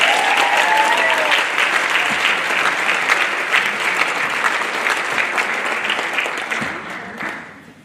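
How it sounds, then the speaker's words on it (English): Audience applause at a high school senior final assembly for two summa cum laude graduates, a dense sustained wash of clapping that stays strong, then thins and fades away near the end. "If you'd hold your applause for a moment"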